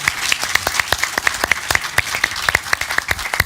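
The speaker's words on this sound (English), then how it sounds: "can we have a round of applause for the panel" A seated audience at a policy panel session on South Africa's expropriation issue gives a round of applause for the panel, steady dense clapping from many hands throughout, fairly close and moderately loud with no talk over it.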